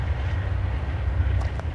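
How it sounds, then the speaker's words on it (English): An Amtrak passenger train rolls past beside a coal train, a steady low rumble that holds evenly throughout at a moderate distance, with a couple of faint higher clanks near the end. "The Amtrak going next to the coal train."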